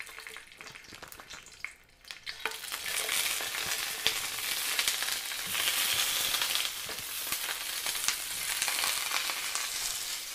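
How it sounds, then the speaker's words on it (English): Sausages hit a hot frying pan and break into a loud, crackling sizzle that swells after a brief quieter moment and then holds steady, spitting and popping throughout with no talking. "That is the sound of the sausages going into the pan."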